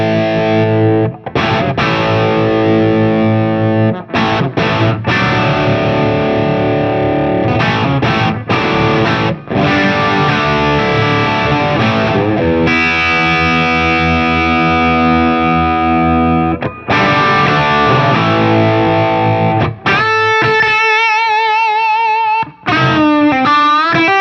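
Electric guitar played through a Wampler Tumnus Deluxe overdrive pedal in buffered bypass mode, giving a loud, continuous distorted tone of sustained chords and riffs, with a few brief gaps and some clean harmonic notes near the end.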